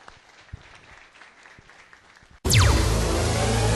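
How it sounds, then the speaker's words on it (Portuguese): Church congregation bursts into loud, sustained applause after a quiet stretch, the clapping starting abruptly and filling the room at close range. "Salve de palmas ao Senhor Jesus."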